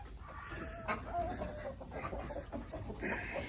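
Chickens cluck softly and murmur nearby in their winter housing on a farm, over a low background hum, with a few brief higher calls.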